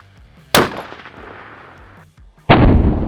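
A rifle in an XRS chassis fitted with an MDT one-piece weight in the fore end fires one sharp, loud shot that rings on for about a second and a half. A second blast starts near the end, after a short quiet gap.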